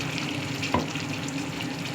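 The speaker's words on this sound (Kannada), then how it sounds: "ಸ್ವಲ್ಪ ನಾನು ನೀರು ಹಾಕ್ತಾಯಿದ್ದೀನಿ" Rinse water from a grinder jar is poured into a pan of cooking pepper dry chicken, giving a steady, fairly quiet sizzling hiss with one small knock partway through and no voices.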